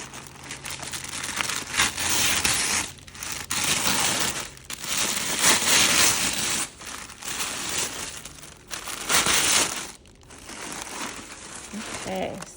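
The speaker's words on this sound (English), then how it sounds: "They just kind of wrapped it up in this gray tissue. So I'm gonna go ahead and unwrap this." Gray tissue paper being unwrapped from a Balenciaga Rodeo bag, continuous close crinkling and rustling with brief pauses, loud and busy throughout.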